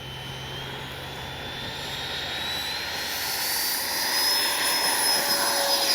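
A Freewing F-22 90mm RC jet with flaps set for takeoff spools up, its ducted-fan whine rising steadily in pitch and loudness as it rolls and climbs, with no voices.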